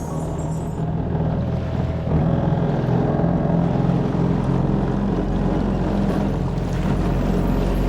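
A motorboat engine drones steadily and loudly with heavy wind rush during a boat ride at Devbagh near Malvan, continuous for the whole stretch with no talking.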